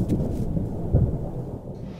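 Thunder from a thunderstorm in the dinosaur survival video game The Isle, a low, rolling rumble over soft rain-like hiss, moderately loud and continuous for a couple of seconds.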